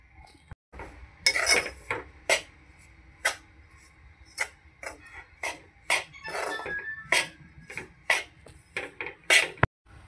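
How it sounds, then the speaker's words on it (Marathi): Besan being roasted in ghee in a pan for Diwali besan laddoo, with a spoon scraping and clinking against the metal in a steady series of sharp strokes, close and fairly loud, with no talk. "जोपर्यंत आहे ना ह्याचं असं रवाळ टेक्स्चर येत नाही ना तोपर्यंत आपण हे भाजत राहायचं"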